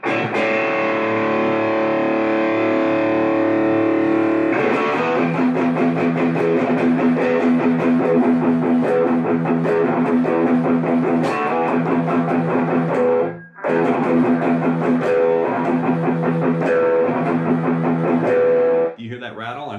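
Mini guitar amp under $100 played with distortion, its cabinet buzzing and rattling: loud sustained distorted guitar chords filling the whole stretch, with one brief dropout near the end.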